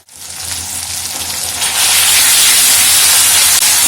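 Ginger-garlic paste with ground coriander, turmeric, chili, cumin and salt sizzles loudly in a pan for a mutton liver and fat curry, a continuous close hiss that swells stronger partway through as it is stirred.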